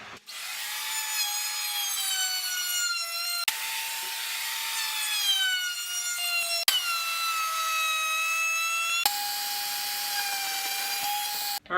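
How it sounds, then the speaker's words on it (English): A wooden diagonal 212 offset amplifier cabinet is worked with a power tool in four long continuous passes, a steady high whine broken by short stops, close and alone with no talk. "Get to sanding this thing down and get my router work done."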